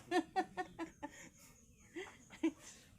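A chicken clucks in a quick series of short, close calls, pauses briefly, then clucks twice more.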